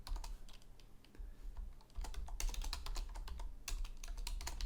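Code typed on a computer keyboard, a quiet, steady patter of close key clicks with a few sharper spacebar or enter taps, no voices over it.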